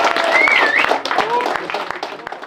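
Applause for a fighter making weight at an MMA weigh-in at the Académie Dignois, clapping that starts strong and fades over a couple of seconds, with a voice and a whistle-like tone rising above it.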